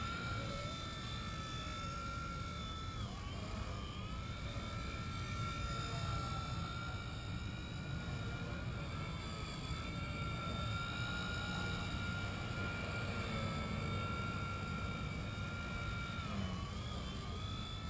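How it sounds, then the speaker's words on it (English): A small Blade mCP X 2 RC helicopter with AS3X technology hovers and flies nearby, its high rotor and motor whine running continuously and shifting in pitch as it maneuvers, fairly faint and with no talking. "Very nice little helicopter."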